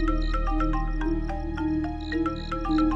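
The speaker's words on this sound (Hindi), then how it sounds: "फारूक भाई का फोन है?" A bright electronic ringtone melody repeats in quick chiming notes, steady and fairly loud, with no voices.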